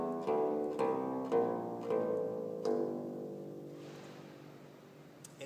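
Long bass strings of a theorbo, tuned in a scale, plucked one after another in about six even, resonant notes that ring on and decay into a soft fade, with no voice.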